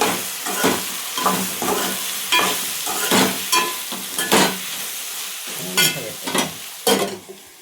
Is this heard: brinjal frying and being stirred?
yes